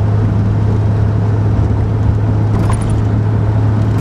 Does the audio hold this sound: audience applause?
no